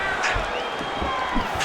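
A virtual arena crowd in the fighting game EA Sports UFC 5 murmurs and swells with excited cheering, a steady roar with a few sharp thuds and shouts rising through it, commentary voices faintly mixed in.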